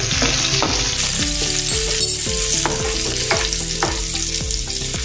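Spices and asafoetida sizzle loudly in hot oil in a pan for a dhaba-style sev tomato curry. A spoon stirs them with a rhythmic series of scraping strokes over the steady crackle, and no one speaks.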